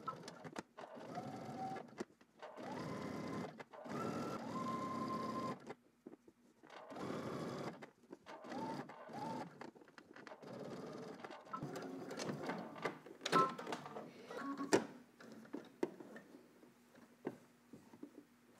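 Sewing machine understitching close to a seam, running in several bursts of steady mechanical whirring and needle chatter separated by short pauses, near and fairly quiet.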